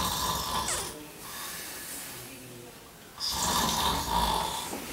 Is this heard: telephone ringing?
no